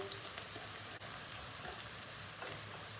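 Peppers fry in a pan as a spoonful of tomato paste goes in, giving a steady, soft, close sizzle with faint stirring scrapes and no voices.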